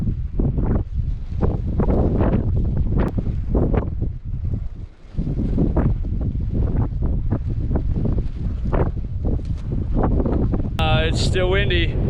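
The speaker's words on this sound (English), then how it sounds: "It's still windy." Strong wind gusts on the Bonneville salt flats battering a microphone, with heavy low rumbling buffets that rise and fall in uneven bursts, loud and close, with a short squeal near the end.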